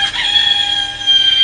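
A squeezed toy device gives off electronic chicken and rooster calls, a steady high-pitched crowing tone that rises again near the end, loud and close with no talk.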